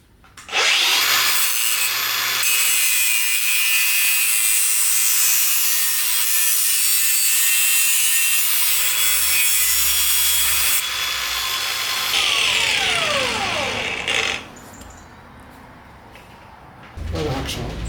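Hacksaw cutting through a steel subframe, with steady back-and-forth rasping strokes that run close and loud for about twelve seconds, then tail off into scraping and handling noise.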